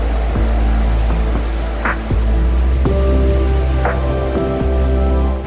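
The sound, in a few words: ocean waves breaking on shore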